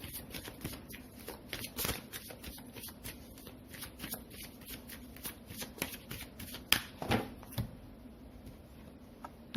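Tarot cards riffled and shuffled for a reading, a steady run of crisp close flicking bursts repeating in quick rhythm throughout.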